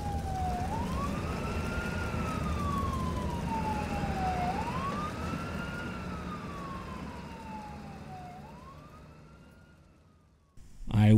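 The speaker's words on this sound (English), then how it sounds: "I began to hear sirens coming in the distance" A siren wails in slow rising and falling sweeps, moderately distant over a steady rumble of traffic, ending with a sudden louder burst of noise.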